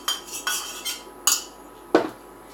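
A metal knife scraping and tapping against a pan while spreading potato dough, five sharp clinks spaced irregularly, close and fairly loud with no talk.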